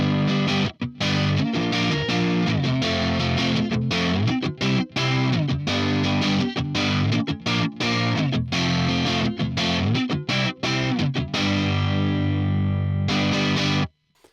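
Heavily distorted electric guitar played through an ML Dizzy 4x12 cabinet impulse response loaded with V30 and K100 speakers, chugging rhythmic chords steadily for about fourteen seconds with brief stops, then cutting off abruptly at the end.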